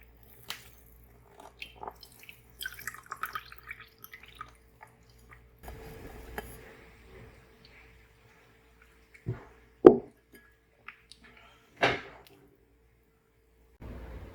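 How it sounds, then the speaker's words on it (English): Fresh homemade cheese curd pressed with a small bowl to drain whey, giving soft squishing and intermittent dripping, a few sharper wet splats toward the end, close and quiet, with no talk. "We use a small bowl to press the cheese to drain the water."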